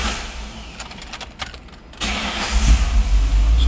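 A 1999 Ford Explorer engine cranks with a brief rattling whir, then catches and settles into a steady, loud rumble close by.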